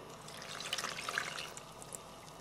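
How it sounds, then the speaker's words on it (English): Water poured into a saucepan of flour, salt and cream of tartar for homemade play dough, a soft steady trickle and splash lasting a couple of seconds with no talking. "Next, add the water"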